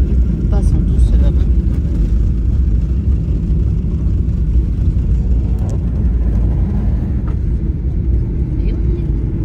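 A passenger airliner lands at Brisbane international airport, heard from inside the cabin as a loud, steady, low engine and roll-out rumble with faint voices underneath.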